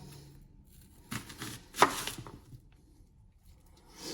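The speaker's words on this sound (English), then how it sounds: "And I'm gonna cut them in 4s for now." A knife cuts onions into quarters on a cutting board, giving a few sharp close chops with quiet pauses between them in a kitchen.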